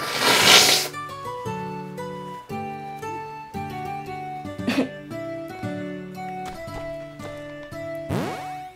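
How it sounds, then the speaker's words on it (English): A person blows their nose in a loud, rough burst, with a second shorter blow near the end, over steady chiming music from the Rune Factory Frontier video game. "Hang on, I gotta blow my nose again."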